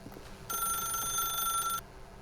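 A phone in The Stanley Parable gives a single bright, electronic ring lasting just over a second, clear and close over a quiet background.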